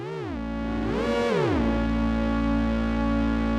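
A synth tone through a Befaco Morphader module swoops up and down in pitch twice, then settles into a sustained note that rings on with a washy reverb and echoing delay tail.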